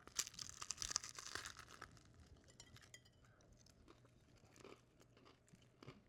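Crisp crunching and crackling bites into a pizza smashburger, loudest at the start and then fading into quieter chewing, close up with no talking.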